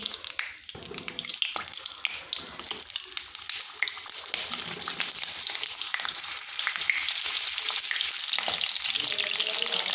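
Green tomatoes fry in a hot pan for a Maharashtrian green tomato bhaji, giving a loud, steady close sizzle with occasional scrapes and clatter, and no talking.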